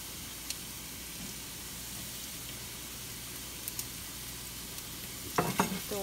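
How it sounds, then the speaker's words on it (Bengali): Potatoes fry quietly in a pan for a salmon curry, with a soft steady sizzle. A few faint clicks break the sizzle, then clattering stirring strikes come near the end. "তো এখন এটা ভালো করে ভাজা ভাজা হবে।"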